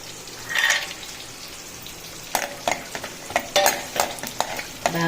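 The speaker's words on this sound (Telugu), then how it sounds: "ఈ విధంగా డ్రై ఫ్రూట్స్ని దూరగా వేయించుకోవాలి" Dry fruits frying in two tablespoons of ghee in a pan, a soft steady sizzle broken by a run of sharp spoon taps and scrapes against the vessel, close up with no voices.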